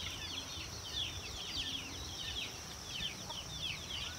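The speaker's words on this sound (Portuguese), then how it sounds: "aqui a bicharada tá subindo pro coleiro aqui, ó. As galinhas e os pintinhos" Chickens and chicks settle onto a roost in a tree outdoors, their faint, overlapping high peeps and soft clucks chattering continuously at a distance over low background rumble.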